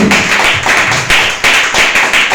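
A worship congregation claps in praise to the Lord, loud and close, falling into a steady rhythmic beat of hand claps with a few thumps mixed in.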